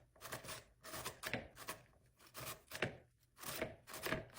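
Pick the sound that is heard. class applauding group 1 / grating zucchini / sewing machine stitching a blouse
grating zucchini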